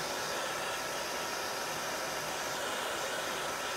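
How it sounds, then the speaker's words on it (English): A hair dryer, just revived by pushing its reset button, blows steadily, a constant airy whoosh running throughout at an even level with no voices. "Just taking my hair dryer that's not turning on"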